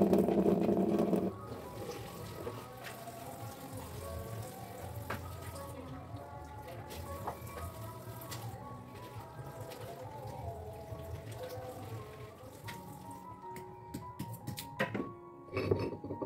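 Vegetables and corn being washed in a sink under running tap water, a steady splashing rush broken by soft knocks and thuds of produce being handled.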